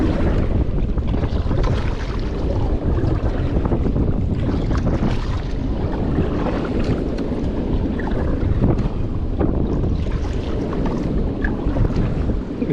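Strong wind roars against a small boat at sea in rough waves and heavy rain, a continuous loud rush of gusts and water with no voices.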